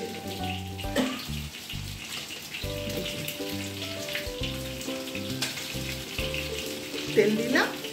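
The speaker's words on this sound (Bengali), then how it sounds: "এইবার এতে আমি তেল দেবো, দিয়ে বড়ি কটা ভেজে দেবো।" Lentil dumplings (bori) frying in oil in a pan, a steady sizzle running throughout with brief bursts of stirring and a louder crackle near the end, with a background hum beneath.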